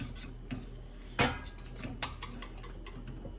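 Thick, pasty Nockerl dough for tomato soup is stirred and mashed against a bowl to break up lumps, giving close, irregular scraping clicks with one sharper knock about a third of the way through.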